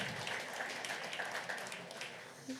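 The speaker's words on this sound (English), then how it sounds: "How about another round of applause for Lance" Soft, distant audience applause at a Central Oregon pub talk event, a steady patter of many hands clapping at low volume.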